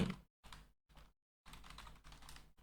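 Rapid clicking bursts of keystrokes on a computer keyboard, typed in several short runs separated by brief silences, close and clear.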